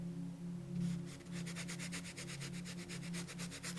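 A paintbrush scrubbing paint onto canvas, a steady close-up rubbing and swishing in quick repeated strokes over a low, constant background hum, with no voices.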